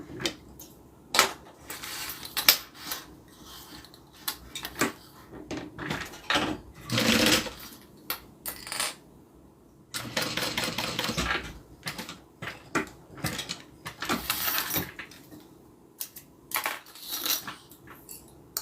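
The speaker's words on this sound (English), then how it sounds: "All right, now we sew it down." A sewing machine stitching down zipper tape runs in bursts of rapid mechanical clatter, stopping and restarting as the fabric is repositioned, close and fairly loud with no talking.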